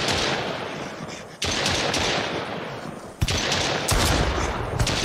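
A shotgun and a pistol fire in the dark in the Mist Survival video game, with loud sustained bursts of gunfire and sharp single blasts standing out, close and without talking.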